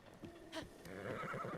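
A horse in Breath of the Wild gives a clear whinny while being ridden, a single rising neigh over soft hoofbeats and quiet ambient game sound.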